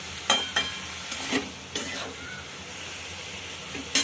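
Ridge gourd being stirred into a spiced tempering, a soft, fairly faint sizzle under a few light scrapes and taps of a spoon against the pan.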